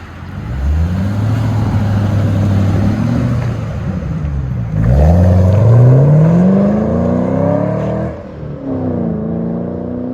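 A Ford Mustang GT with a 4.6-liter V8 and straight pipe exhaust revs loudly nearby, two rising throttle blips falling back to a rumbling idle.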